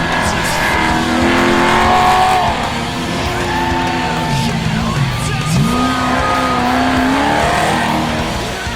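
A race truck in the San Felipe 250 desert race roars steadily at speed, its engine pitch rising and falling through gear changes, loud and close with constant road and wind noise.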